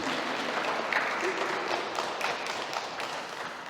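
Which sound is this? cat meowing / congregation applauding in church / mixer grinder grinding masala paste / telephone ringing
congregation applauding in church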